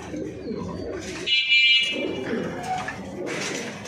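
Male pigeon cooing, a few soft rolling coos close by with a brief high chirp in the middle.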